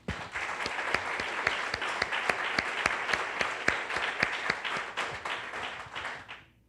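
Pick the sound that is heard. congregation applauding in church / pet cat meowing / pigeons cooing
congregation applauding in church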